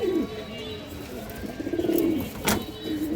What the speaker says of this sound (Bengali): ঘুরানো কবুতর এই দেখেন